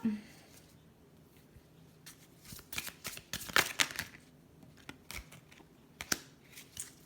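Tarot cards being shuffled by hand, a run of brisk papery riffles and snaps that bunch into short bursts, close and fairly quiet, with faint talk now and then.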